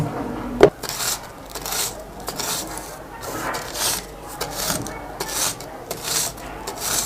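Matchstick head gunpowder is crushed into powder in steady rubbing, grinding strokes, close and fairly loud, with one sharp knock near the start and no talk.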